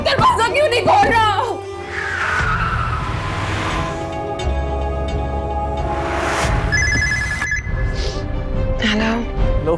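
A telephone rings in a tense late-night scene from a Pakistani TV drama, its electronic ringtone sounding in short repeated bursts over a steady music and ambience bed, with people talking around it.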